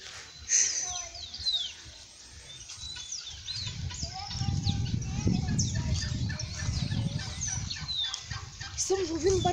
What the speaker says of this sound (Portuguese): Estamos ouvindo um barulho de uma espécie muito rara. É um peru de casa.